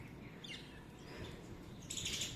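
Small birds, likely sparrows, chirp faintly in an open grassy spot, a few soft tweets scattered over low background noise, with a brighter cluster of calls near the end.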